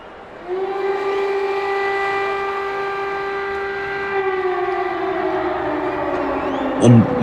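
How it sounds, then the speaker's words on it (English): A loud, sustained siren wails on one steady tone, slowly dropping in pitch as it winds down, with a faint crowd noise underneath. "you can hear the siren. That means the War Games cage is making its way down"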